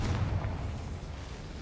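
A Confringo blasting spell explodes in a Harry Potter video game, a low, muffled boom that rolls on as a steady rumble and fades slightly, heard fairly faint with no talking.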